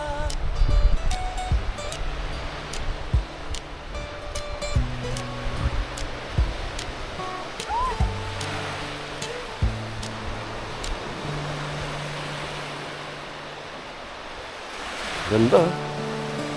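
Sea waves washing onto Patar white sand beach in Bolinao, Pangasinan: a steady rushing surf that swells near the end, partly masked by louder tonal music throughout.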